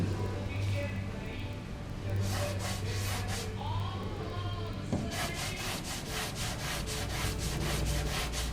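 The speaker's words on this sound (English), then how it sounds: "So now I'm going to see if my hammering paid off by sanding it" Sandpaper rubs back and forth over the wooden top of a bedside table under repair, in close, rhythmic strokes with short pauses, while a person talks faintly in between.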